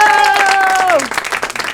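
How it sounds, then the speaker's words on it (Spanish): A studio audience on a Spanish-language talk show applauds a guest's entrance. A short descending musical sting sounds over the start, then dense clapping continues on its own, close and loud. "¡Un aplauso!"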